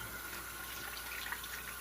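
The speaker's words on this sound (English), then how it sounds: "wash my hands real fast" Tap water runs in a continuous, fairly faint splash as hands are washed at a kitchen sink during cooking, steady throughout with no voices.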